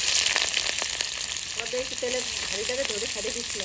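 Onion dropped into a hot pan for a Bengali evening snack spice mix fries with a steady, close hiss, and a voice briefly talks over the sizzle near the end.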